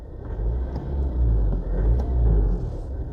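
Toyota Avensis engine droning and rumbling from inside the cabin while driving, a steady low-pitched hum with gentle swells as the revs rise and fall, loud and continuous with no talk.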